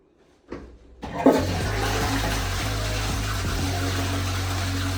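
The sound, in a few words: toilet flushing at Disneyland Paris hotel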